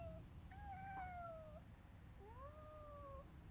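Several cats meow in a quiet outdoor spot, two or three drawn-out, rising-and-falling cries spread over a few seconds, fairly faint over a low background rumble.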